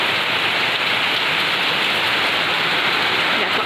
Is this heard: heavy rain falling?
yes